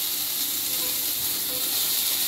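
Thinly sliced capsicum and long-cut onions frying in a pan give off a continuous, even, bright sizzle that holds steady throughout.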